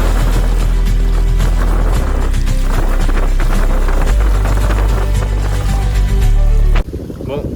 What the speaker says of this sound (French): le vent commence enfin à se calmer